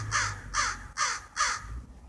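A pet bird gives four loud, evenly spaced harsh squawks close to the listener, each a short raspy burst with brief gaps between.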